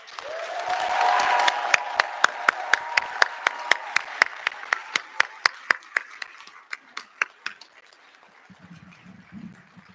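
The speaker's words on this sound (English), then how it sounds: "May we now have a final round of applause for the reception of" Audience applause at a physical therapy white coat ceremony, starting as a dense wash of clapping that thins into a few distinct claps and fades out, with a faint murmur of voices at the end.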